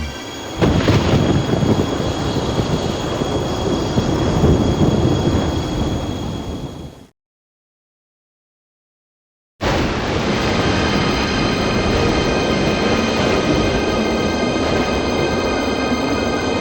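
A violent thunderstorm roars in through a flung-open casement, loud rumbling thunder and rushing storm gusts sustained close by, broken by a few seconds of total silence before the storm noise resumes just as strongly.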